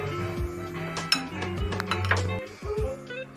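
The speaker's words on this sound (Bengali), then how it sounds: "সবগুলো উপকরণ ভালোভাবে একবার মিশিয়ে নেব।" A spoon mixes spiced soybean ingredients with turmeric, garam masala and ginger paste in a bowl, giving close clinks and scrapes against the dish with ringing tones.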